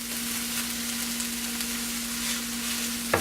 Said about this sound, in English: I'm going to add these mushrooms now.